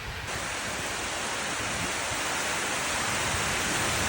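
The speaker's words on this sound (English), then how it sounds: "Standing on my porch, watching it rain." Rain at midnight heard from a porch, a dense, steady broadband hiss of falling drops that stays loud and even throughout without any voices.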